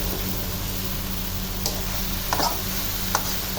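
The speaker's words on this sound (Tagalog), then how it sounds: "Dumadaan muna yan sa pagigisa." Ingredients for spicy Filipino laing sautéing in a pan, a steady close sizzle under a low hum, with a few clicks and scrapes of stirring and no speech.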